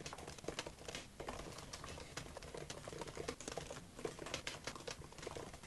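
Steady, rapid clicking of a computer keyboard as an email is typed, a dense run of close keystrokes with no voices.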